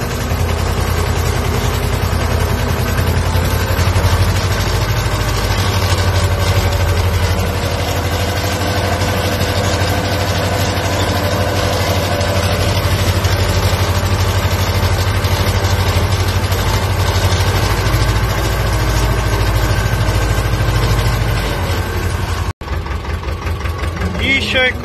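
A heavy Ursus tractor engine idles steadily at close range, a loud low rumble with a chugging pulse that continues almost unbroken.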